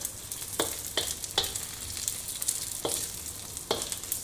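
Small anchovies fry in a pan with a steady high hiss, broken every second or so by sharp clicks and spits as the fish shift in the oil.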